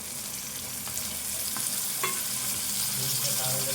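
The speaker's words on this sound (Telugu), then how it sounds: "ఇట్లా వేగినాక ఇప్పుడు టమాటా వేసుకోవాలి" Chicken frying in a pan with tomato added, a low steady sizzle under occasional scraping and stirring knocks from a spoon against the pan.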